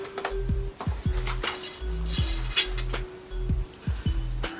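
A Kalashnikov AK-47 cleaning kit is opened and its items set aside, with close clinks, clacks and rattles of hard pieces handled in a steady, irregular series, fairly loud and alone.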